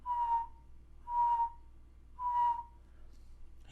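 A person whistles three steady, sustained single notes, each about half a second long, evenly spaced and fairly close, with quiet pauses between them and no talking.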